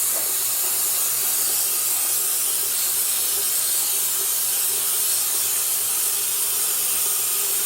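Tap water runs hard into a basin being filled to rinse dyed wool roving, a loud, even hiss and spray that carries on without a break and with no speech.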